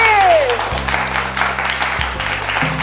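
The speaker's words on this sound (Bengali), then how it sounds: "জোরে হাততালি" Loud applause from a crowd of contestants and audience at a family game contest held in a jewellery store in Rampurhat, with music tones playing alongside the clapping throughout.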